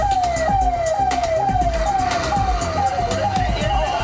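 A fire engine siren sounds at a blaze in a pesticide factory in Vidisha. It gives a loud, steady run of fast rising-and-falling yelps, each about half a second long, over background rumble and faint voices.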